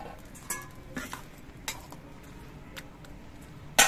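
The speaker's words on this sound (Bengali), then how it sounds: "এর মধ্যে ভেজে রাখা মাছের মাথাগুলো দিয়ে দিচ্ছি" Fried fish heads dropped into a pan of bottle gourd with turmeric and stirred, giving a few sparse utensil clinks and scrapes against the pan, with a sharper clatter at the end over a quiet background.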